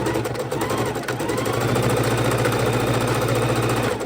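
A sewing machine runs at a steady, fast motor hum with rapid rhythmic needle chatter while back stitching a seam, close and continuous for several seconds.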